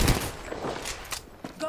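Rapid gunfire in a full-squad shooter video game, loud, dense and continuous across a short burst, mixed in with players' tense voices and callouts.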